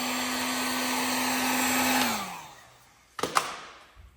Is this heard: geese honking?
no